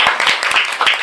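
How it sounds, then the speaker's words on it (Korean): Applause for pastors at a Korean church gathering: a short burst of dense, steady clapping from an audience filling the room, with no other sound standing out. "박수 한번 부탁드리겠습니다"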